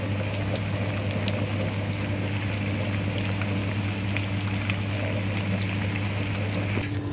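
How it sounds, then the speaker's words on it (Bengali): Vegetable pakora deep-frying in hot oil, a steady bubbling crackle that holds evenly throughout with no voices. "তা ভিউয়ার্স দেখতে পাচ্ছেন আমি এটা তেলে ফ্রাই করতেছি 5-7 মিনিট।"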